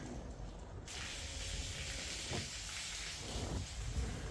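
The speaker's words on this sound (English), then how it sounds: "Wes is up there splashing water on the roof" Water splashed onto a leaking roof makes a broad steady hiss and spray from above, with a couple of brief louder splashes, no talking.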